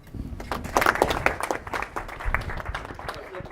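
Audience applause welcoming Dr. Keith Black at a lecture event, a dense run of many hands clapping that stays steady and fairly loud throughout, with no talk over it.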